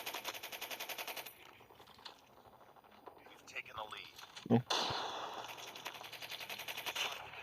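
Rapid automatic gunfire from the video game Call of Duty Mobile, bursts of shots with a sharp blast midway, fairly close, with speech in the background.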